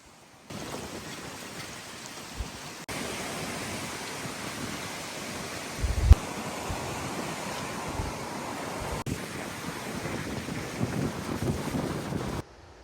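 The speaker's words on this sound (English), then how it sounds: "So we got a nor'easter coming in tonight and this weekend. Winds of over 50 miles an hour" Strong nor'easter wind gusts sweep through a New England yard during a storm with winds over 50 mph, producing a continuous roaring rumble that buffets the microphone, with surges and sharp thumps and no voices.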